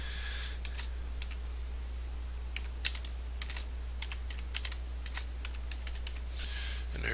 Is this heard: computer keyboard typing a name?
yes